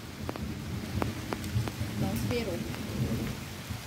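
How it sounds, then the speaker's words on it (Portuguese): Rain falling steadily at a roadside camp stop near a car, with low rumbling thunder underneath and scattered drop taps, moderately loud and continuous. "A chuva chegou."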